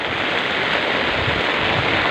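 Heavy rain driven by strong wind, a dense, loud, continuous roar of hiss and rushing noise, as heard by someone walking outdoors under an umbrella.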